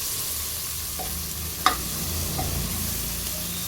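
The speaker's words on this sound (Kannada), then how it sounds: "ಶುಂಠಿ ಬೆಳ್ಳುಳ್ಳಿ ಪೇಸ್ಟ್ ಹಾಕೊಂಡ್ಮೇಲೆ ಹಸಿ ವಾಸನೆ ಹೋಗೋವರೆಗೂ ಸ್ವಲ್ಪ ಚೆನ್ನಾಗಿ ಫ್ರೈ ಮಾಡ್ಕೋಬೇಕು." Ginger garlic paste is frying in oil for a rice pulao, making a steady soft sizzle with a few faint stirring scrapes and one sharp clink of a spoon against the pan partway through.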